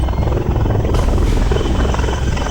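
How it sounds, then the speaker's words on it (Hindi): An army helicopter near hills in Kupwara gives a loud, steady rotor and engine roar, close and sustained throughout with no talk. "कुछ ही देर में सेना का हेलीकॉप्टर कुपवाड़ा में पहाड़ियों के पास पहुंचा"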